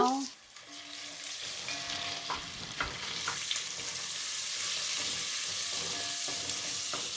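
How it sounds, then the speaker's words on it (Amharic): Onions sauté in a pan as the first step of chicken biryani: a steady, close sizzle with occasional stirring scrapes and clinks, no talk. "መጀመሪያ ሽንኩርት ማቁላላት ነው ያለብን።"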